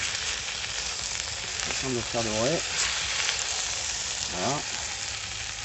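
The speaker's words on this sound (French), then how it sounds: "Et là j'ai mis mon gigot, vous voyez, et je suis en train de le faire dorer." Leg of lamb browning in a Dutch oven on a TORO barbecue, a steady broadband sizzle throughout, with a brief spoken word near the end.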